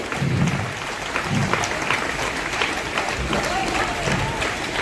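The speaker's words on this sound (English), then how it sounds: "Then a roaring round of applause now." Applause at a school retirement function, a continuous crowd of clapping hands with some voices murmuring underneath.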